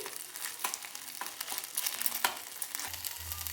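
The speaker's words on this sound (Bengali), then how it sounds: "আদা জিরেটা ভালো করে ভেজে নিচ্ছি।" Ginger and cumin paste sizzles in oil with dried red chillies, a soft, fairly quiet crackle broken by a few light stirring scrapes, with a low hum near the end.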